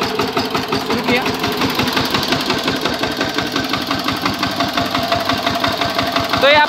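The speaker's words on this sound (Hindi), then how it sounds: "तो हमने अभी ट्रैक्टर को शुरू कर दिया है" A VST power tiller's engine runs steadily at close range, a dense, rhythmic mechanical chugging with continuous vibration throughout, growing slightly louder near the end.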